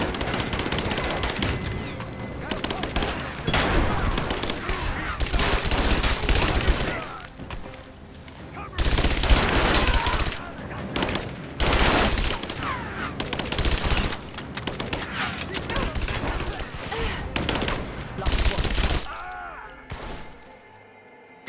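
Loud bursts of gunfire from a laser-sighted gun in Rise of the Tomb Raider, heavy shots and rattling volleys in repeated clusters separated by short pauses, cutting off near the end.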